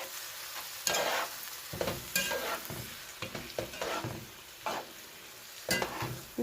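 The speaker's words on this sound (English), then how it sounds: "And I'm going to mix it all. This is on a high heat." Zucchini and other vegetables for vegan calabacitas a la mexicana fry over high heat as they are stirred, a steady sizzle broken by repeated scraping, clattering stirs in the pan, close and loud.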